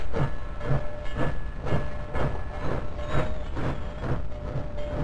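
Norfolk Southern steam locomotive chugging past, a loud, close, steady rhythm of heavy chuffs about twice per second with a hissing wash over the top.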